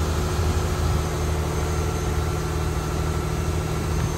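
Engine of a Taiwanese longline fishing vessel running near the engine room, a loud, steady droning hum with constant low rumble and vibration and no pauses.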